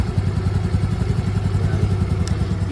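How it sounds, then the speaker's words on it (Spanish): Honda Navi Adventure 2024 motorcycle engine running close by, a steady rapid low thrumming pulse with slight rhythmic clatter, held at a constant throttle without talk. "Mire cómo se acelera la moto."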